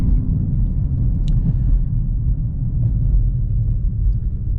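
A 2019 Dodge Charger R/T heard from inside during a drive, its engine a steady, loud, deep rumble that fills the whole stretch without letting up.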